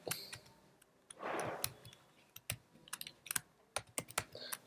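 Close, crisp keystrokes on a computer keyboard while text is entered in Photoshop, an irregular quick pattern of sharp taps with a brief soft rustle partway through.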